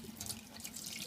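Cold water streaming from a tap in an RV, a short, quiet, steady hiss and splash of flowing water with no talking.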